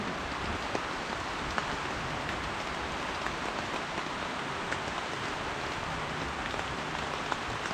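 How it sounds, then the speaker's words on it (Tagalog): Steady, dense rain hissing on surfaces, with scattered louder drips and patters, close by and continuous, no voices. "Ulan na naman po."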